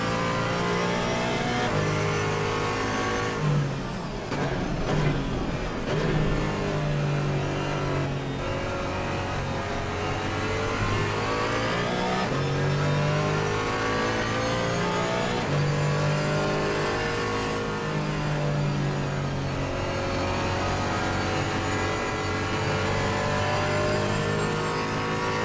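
Race cars in Assetto Corsa Competizione at the Nurburgring, engines revving loud and continuous with rising and falling pitch through gear changes, a near car dominating and others passing, no talk.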